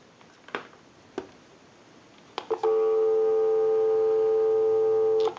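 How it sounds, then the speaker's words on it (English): A Mickey Mouse novelty telephone gives a few clicks, then a steady, loud, continuous dial tone that holds for several seconds before cutting off. "Give you some dial tone."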